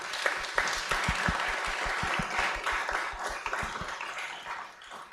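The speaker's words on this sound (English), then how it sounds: "if you want to give them a round of applause, that'd be fantastic" Audience applause for a finance panel at a talk, with individual claps clearly audible in a moderately sized crowd, steady for several seconds before tapering off.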